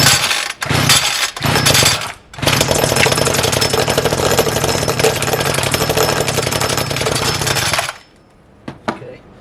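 A Ryobi 30cc petrol line trimmer's two-stroke engine sputters briefly after short pull-start attempts, then catches and runs loud and steady for several seconds at close range before cutting out, followed by a few faint clicks.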